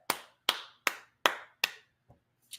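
Hands clap in applause, five crisp, evenly spaced claps about every 0.4 seconds, followed by a softer tap and one final faint clap.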